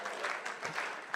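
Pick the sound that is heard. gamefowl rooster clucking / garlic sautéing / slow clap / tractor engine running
slow clap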